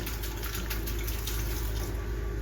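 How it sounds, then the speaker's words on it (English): Vinegar is poured into a jar packed with cucumbers and chopped fresh dill, giving a steady, close-up rush of liquid that runs continuously and evenly throughout. "now I'm going to just fill it up with vinegar"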